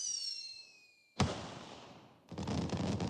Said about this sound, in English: The flame turned into fireworks, exploding into in a dazzling message across the night sky